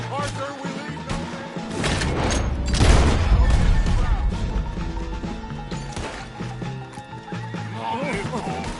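Horses in a video game neigh and gallop at close range amid a dense, loud game mix with hoofbeats, crashes and gunfire-like bursts, with characters' voices speaking over the action.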